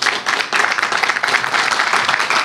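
Audience applause at a Dutch regional health event in Venray, a steady dense patter of clapping filling the room for a couple of seconds, fairly loud and even throughout.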